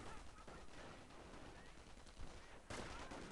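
Machine gun fire in a World War II real-time strategy battle, a steady broadband crackle of automatic shots and distant explosions throughout, with a louder burst near the end.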